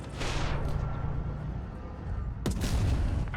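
A tank gun fires in a World War II tank video game with a J Panther, a loud deep boom cutting through constant engine rumble and battle noise, followed by a rolling low tail.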